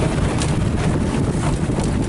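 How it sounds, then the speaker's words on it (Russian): Steady, broadband roar of strong wind buffeting the microphone at dawn on an overnight fishing trip, constant and loud throughout with no voices. "Сильный ветер. Так что слышимость будет никакая."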